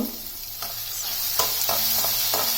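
Crushed ginger and garlic fry in a pan for mango chitranna, a close, steady sizzle broken by several short spoon scrapes.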